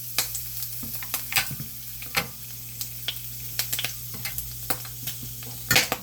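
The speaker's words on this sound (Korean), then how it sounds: "목이버섯은 튈 수가 있어요. 그래서 조금 볶을 때 조심하셔야 됩니다" Wood ear mushrooms stir-fried in a pan for Korean japchae crackle and pop, with irregular sharp spatters and spoon scrapes over a low steady sizzle, close by.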